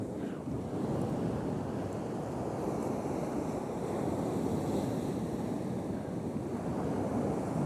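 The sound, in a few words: waves breaking on a beach with wind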